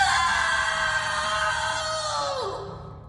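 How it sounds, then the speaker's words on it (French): Screams come from a front door: one long, loud, high cry with harsh overtones, holding steady and then bending downward and fading near the end. "De nouveaux cris nous proviennent de la porte d'entrée"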